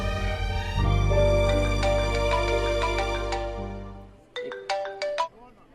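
A mobile phone rings with a loud, melodic electronic ringtone of repeating bright tones over a low sustained bass, cutting off near the end before a few separate chiming notes sound.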